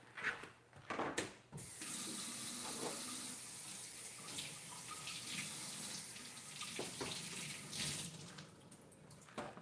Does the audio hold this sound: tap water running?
yes